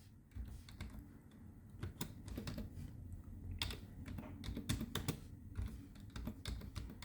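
Fingers typing on a computer keyboard, a quiet, close flurry of irregular clicks and key taps continuing without pause.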